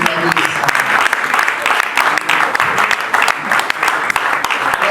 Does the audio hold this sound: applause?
yes